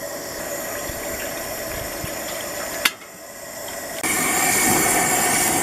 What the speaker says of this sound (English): our water's starting to boil